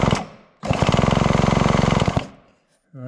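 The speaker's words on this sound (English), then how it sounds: "So I got the drill set up, we'll spin it over and see if we have any spark." A drill cranks over a stuck vintage Homelite Zip chainsaw engine in one loud, rapid, rattling burst of about a second and a half, with quiet before and after.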